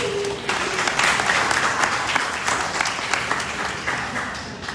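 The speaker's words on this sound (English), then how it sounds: "can we please give Ben and Coach a round of applause" Studio applause for guests on a football kickoff special fills the room as a steady, moderately loud clapping wash that swells slightly and then eases.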